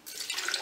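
Milk pours into a blender of pear, apple, beetroot, flaxseed and agave syrup for a smoothie, a brief close splashing trickle of liquid.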